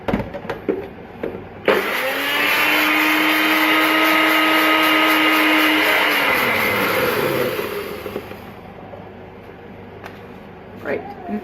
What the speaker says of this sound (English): So we're just going to quickly whiz these up.